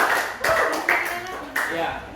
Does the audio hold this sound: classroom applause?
yes